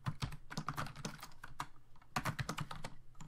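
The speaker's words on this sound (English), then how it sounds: "I cannot type today" Rapid, uneven typing on a computer keyboard during a Python programming lesson, a dense run of close clicks and key strikes with a brief pause in the middle.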